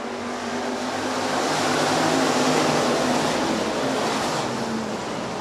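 USRA Hobby Stock race cars roar off at the start of a nighttime feature at Rapid Speedway, their engines blending into a dense, steady rumble that swells slightly and then holds.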